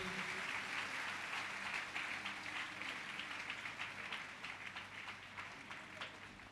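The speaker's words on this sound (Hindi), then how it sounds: "एक बार ताली बजाइए तेजी से प्रभु के लिए।" A church congregation claps rapidly in praise of the Lord, a sustained fast patter of many hands filling the room, slowly easing off toward the end.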